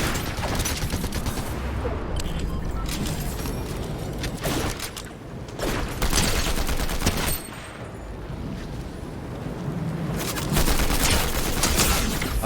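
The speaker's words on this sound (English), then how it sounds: "I'm getting shot from 2 different angles." Repeated volleys of gunfire in Fortnite Zero Build, loud bursts of assault rifle fire coming in clusters with brief lulls between, over busy game ambience.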